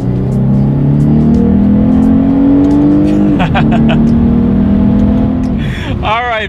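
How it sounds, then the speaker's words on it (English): A 2019 Lexus IS300 F Sport's naturally aspirated V6 revs up hard with rising pitch under paddle-shifted acceleration, drops sharply at a gear shift around midway, then climbs again before another quick shift near the end. "we'll see how quickly we can get this naturally aspirated V6 up to speed"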